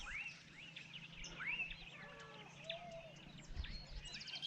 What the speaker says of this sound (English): The sound of the birds in the morning is quite another thing.